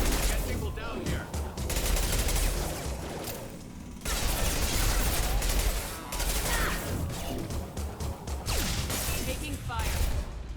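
Rapid bursts of automatic gunfire and crackling shots in the video game Mass Effect 2, loud and near, with brief pauses between volleys while voices talk over parts of it.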